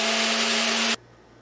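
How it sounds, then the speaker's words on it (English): A 1970s countertop blender runs on its high blend setting, a loud steady whir with a strong motor hum that cuts off abruptly near the end, leaving a faint low hum. "Okay, blend on high."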